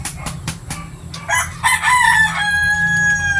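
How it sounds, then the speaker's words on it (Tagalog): A young rooster, about six months old, crows nearby, a strained rising call that trails off, preceded by a few sharp knocking sounds and a low background rumble. "Ang bilis nila maging tandang."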